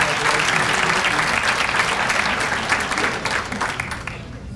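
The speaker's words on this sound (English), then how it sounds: "Let's give a big round of applause for all of those 25-year awardees." A banquet crowd claps warmly for staff marking 25 years of service, a full, close burst of applause that thins and fades toward the end.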